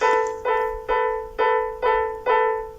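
Piano in the horror video game Slender The Arrival, played as six evenly spaced, sustained notes of equal loudness, each ringing with rich harmonics before the next is struck.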